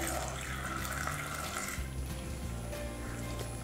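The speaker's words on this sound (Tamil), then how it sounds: "அடுத்தது கொஞ்சம் தண்ணி ஊற்றிக்கலாம்." Water is poured into a pot while cooking a village-style Tamil dry fish curry, a faint steady splashing trickle lasting a few seconds with no talking.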